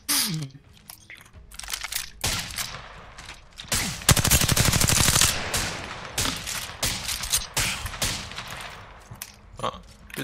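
Video game gunfire rattles through the stretch, with sharp shots and a sustained automatic burst near the middle, all close and loud, mixed with crunchy impacts and occasional clicks.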